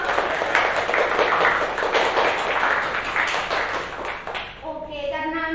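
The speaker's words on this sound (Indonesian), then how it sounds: "Oke, beri tepuk tangan untuk Alia Sang." Classroom applause during a Japanese micro-teaching lesson: a steady patter of many hands clapping at close range, fading as a short musical chime rises near the end.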